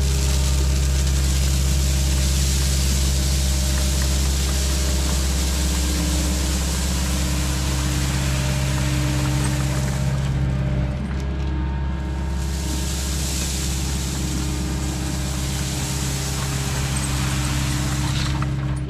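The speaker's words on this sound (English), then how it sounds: "I'm spinning the skid steer out away from the wall, but I'm keeping that closest edge to the wall." A skid steer works close by while spinning to set rock against a wall, its engine a steady, loud, low drone with a brief dip in pitch partway through and no talking.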